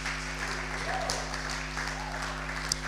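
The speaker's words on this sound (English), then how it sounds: "Clap for yourself." A women's fellowship audience gives a short burst of steady applause at moderate distance, with a low hum running underneath.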